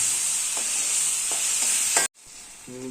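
Masala for a homestyle chicken roast sizzles loudly and steadily in the pan, with a few scraping stirs breaking through the hiss before the sound cuts out abruptly and the frying resumes more quietly.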